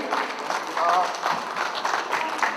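An audience at the opening ceremony of the 2023 Gwangju Able Art Fair gives a short round of clapping, moderately loud and fairly even, with voices mixed in among the hands.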